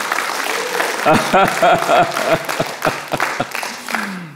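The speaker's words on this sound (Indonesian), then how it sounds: "Berikan tepuk tangan buat Tuhan Yesus." A church congregation claps during a sermon, a run of crisp, rhythmic hand claps heard together with a voice that rises and falls through the middle of the burst.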